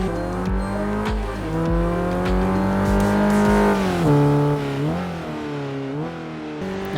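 Mitsubishi Lancer Evolution in Assetto Corsa, its engine revving hard and steadily through gear changes, the pitch climbing and dropping as the car is thrown around the track, loud and close with no talk.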